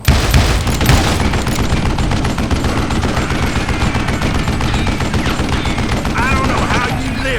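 Constant, dense video-game gunfire in Call of Juarez: Gunslinger, rapid overlapping shots forming a steady loud barrage throughout, with faint voices mixed underneath.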